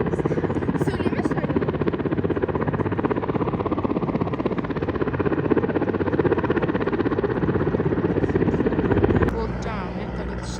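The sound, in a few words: helicopter flying past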